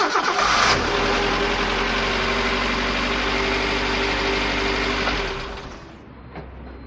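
Car engine running through a battery test: a loud steady mechanical roar with low rumble holds for about five seconds after a brief burst at the start, then drops away, leaving a faint hum.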